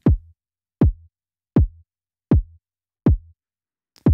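Synthesized kick drum from a U-he Zebra patch with the filter switched on, five evenly spaced deep thumping hits about 0.75 seconds apart, each with a short low tail, loud and dry with silence between.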